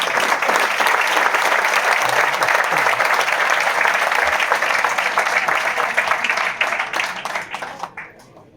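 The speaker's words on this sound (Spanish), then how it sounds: "decir un aplauso para él y muchas gracias" Sustained audience applause at a tribute event for the founder of a bullfighting association, loud and dense throughout before tapering off in scattered claps at the end.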